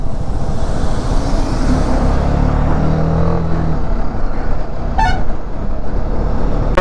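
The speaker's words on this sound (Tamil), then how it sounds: "எதுக்கு இவ்வளோ டிராஃபிக்கு?" Dense road traffic in Bangalore, a continuous low rumble of engines from cars, trucks and buses nearby, with a sharp car horn toot near the end and another at the very close.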